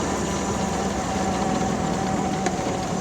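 A 1969 Volkswagen Buggy engine runs with a steady, close drone and rumble. No distinct gear change stands out, and no one speaks.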